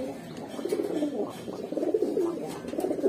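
Pigeons in a shop coo in soft, rhythmic rolling murmurs, several birds overlapping close by at a moderate level.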